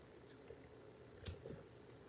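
Scissors make a single crisp snip through a small section of fly-tying material, a quiet close cut against a soft background with no talking.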